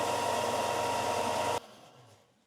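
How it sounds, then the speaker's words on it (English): Belt sander sanding the bottom of a wood-turned piece, a loud steady whirring grind that cuts off abruptly and winds down into faint quiet. "I'm using the belt sander to sandpaper the bottom smooth."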